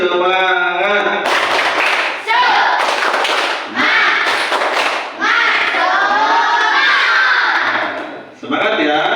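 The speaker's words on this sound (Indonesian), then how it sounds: "ayo kita beri tepuk semangat dulu. Tepuk semangat." Children in a classroom performing a rhythmic clapping cheer, loud bursts of unison claps alternating with chanted voices in short repeated phrases.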